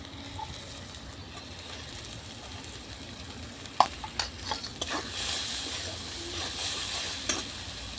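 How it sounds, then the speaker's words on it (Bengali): Taro stems and shrimp fry with spices in a pan over a clay stove, a steady low sizzle broken by a few sharp scraping stirs, and the hiss swells louder near the end. "মশলাগুলোর সাথে কাঠি কচুটা ভালো করে কষিয়ে নেবো।"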